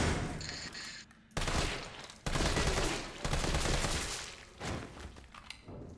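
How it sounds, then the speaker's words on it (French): An automatic weapon fires at zombies in the video game Resident Evil 3 in dense, loud bursts of rapid gunfire with brief gaps between them, no talk. "Avec ton arme automatique, quand tu shootes des zombies, ils font la salsa"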